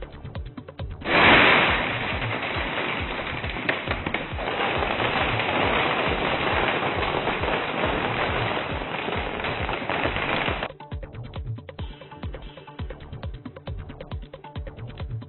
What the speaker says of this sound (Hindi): पटाखे फोड़े गए